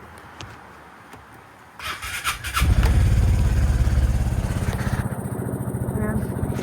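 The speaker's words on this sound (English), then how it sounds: "start up the scooter, give it a try." A Piaggio Fly 150 3v ie second-generation scooter, fitted with a new battery, cranks briefly and catches, then settles into a loud, close, putt-putting idle that continues steadily to the end.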